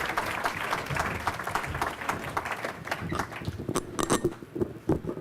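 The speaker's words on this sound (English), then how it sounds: "Please give a loving round of applause to Coach Bob Lottie." A crowd claps at the 2015 Pacifica Sports Hall of Fame awards ceremony indoors. The applause is a dense patter that thins into scattered individual claps toward the end.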